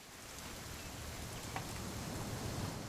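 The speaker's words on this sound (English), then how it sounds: "It's gonna rain the whole weekend" Steady rain falls in a video game, a soft, even patter with a few scattered drops standing out, constant and fairly faint, with no voices over it.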